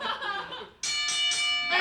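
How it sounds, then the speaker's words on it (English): Bell clanging to start a fight at a staged showdown event, a bright ringing that strikes abruptly after a moment of crowd noise and sustains with repeated pulses. "there's the bell!"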